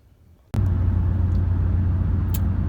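A tenth-generation 1997–2004 Ford F-150 cruises along with its cruise control set. A loud, steady engine and road drone cuts in abruptly and holds without a break, with no talking.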